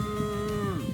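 A person imitates a cow with a drawn-out moo while out on the Tour Divide bike route in Colorado, heard close over steady outdoor and wind noise, with the voice bending downward near the end.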